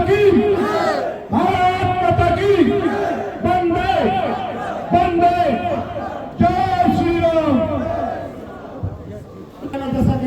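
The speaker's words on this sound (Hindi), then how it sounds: "एक बार जोरदार तालियों के साथ" A crowd at a Kshatriya Mahasabha community rally in Agra cheers and shouts loudly in waves. Chanting voices dominate, with clapping mixed into the noise.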